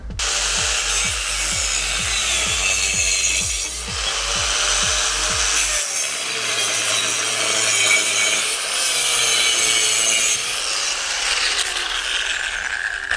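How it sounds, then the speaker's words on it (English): Metal being cut for a Datsun 620 chassis build, a loud close rhythmic rasping stroke repeated quickly at first, then a continuous grinding scrape with no talking. "So I can cut a straight line even when it's at an angle."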